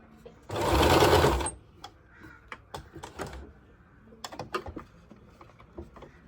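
A sewing machine stitches a churidar top in one steady, loud whirring burst of about a second, followed by scattered close clicks and fabric handling.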